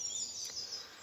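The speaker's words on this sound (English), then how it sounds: "This morning I'm hearing nature's improvisation, jazz birds." Birds sing in a dawn chorus, a faint, continuous high chirping and trilling with no other sounds.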